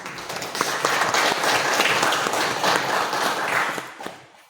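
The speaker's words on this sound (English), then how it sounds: "And I think that deserves a clap for all of you." Clapping from a group at a training and teambuilding day, a dense, steady burst of applause at close range that holds for about four seconds before tapering off.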